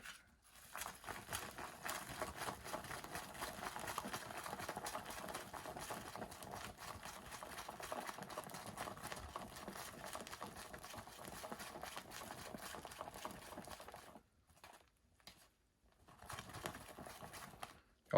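Natto being stirred with chopsticks gives a quiet, steady, rapid sticky swishing and clicking that runs continuously, then breaks into short pauses and a brief final burst near the end.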